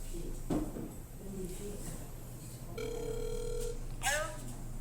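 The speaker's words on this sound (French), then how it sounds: "Essaye de caller le contact." A telephone call to a contact gives a single short electronic ringing tone partway through, faint against a quiet room background with small handling noises.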